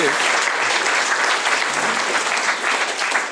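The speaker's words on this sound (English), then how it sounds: "Can we just have a round of applause on that?" A large crowd at a distinguished alumni awards event breaks into sustained applause, a thick continuous wash of clapping that stays loud and level throughout.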